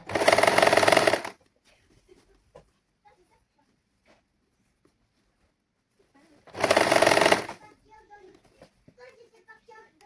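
A sewing machine stitches saree blouse lining fabric together with the saree cloth in two loud, steady runs of about a second each, separated by a long quiet stretch with faint voices and small handling noises.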